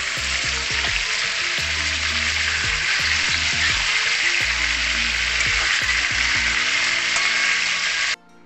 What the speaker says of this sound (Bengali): ওই ম্যারিনেশনের চিকেন থেকে একটা একটা করে আমি ভেজে নেব সাদা তেলে